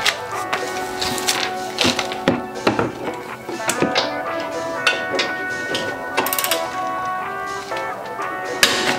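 Wrench work breaking loose bolts on a Subaru WRX during an ETS titanium intercooler install, a close series of sharp metallic taps, clicks and ratcheting knocks at irregular intervals.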